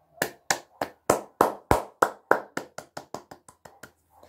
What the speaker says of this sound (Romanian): O rând de aplauze.